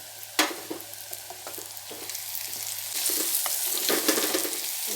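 Steady sizzling and crackling of onions and garlic frying in a hot pan, with scraping stirs throughout; the frying grows louder and brighter partway through.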